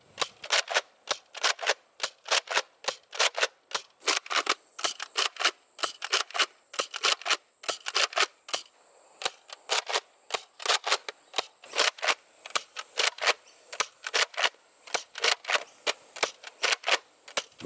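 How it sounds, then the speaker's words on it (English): A Nerf Modulus Recon MK II blaster firing foam darts in quick succession: dozens of sharp, close, snappy clacks in a steady rapid rhythm that continues throughout without talking. "Now here is a quick firing demonstration."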